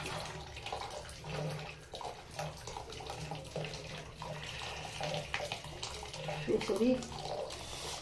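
Whey drains and splashes steadily from cheese curds being strained for chhurpi, a continuous watery rush under a person speaking quietly.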